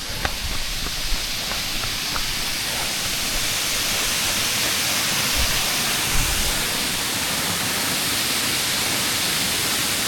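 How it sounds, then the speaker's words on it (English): A waterfall rushes loud and close, a dense steady roar that fills the whole stretch without pause. "here's the other waterfall."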